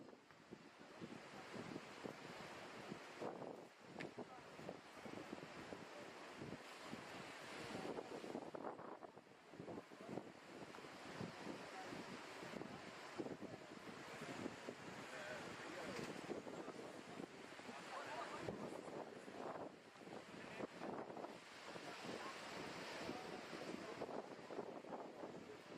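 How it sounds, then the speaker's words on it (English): Gusting wind buffets the microphone at a Victoria Bay surf contest, a continuous roaring whoosh that swells and eases, blending with surf in the background. "So the wind really starting to gust down here."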